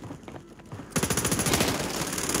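Rapid automatic gunfire from an MP5 submachine gun in a Warzone match on Rebirth Island, a sustained loud burst of evenly spaced shots starting abruptly after quieter ambient game sound.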